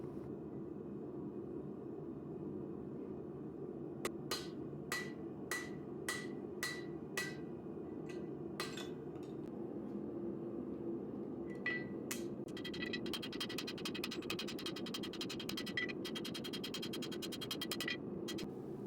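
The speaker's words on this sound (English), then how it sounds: "I take out the hot cut tool. It's time to chop the knife off the bar." At a forge, a hammer strikes a hot cut tool to chop a forged knife blade off the bar. Sharp metallic blows ring out at a steady beat, then come faster and more densely later on, all fairly faint over a low background hum.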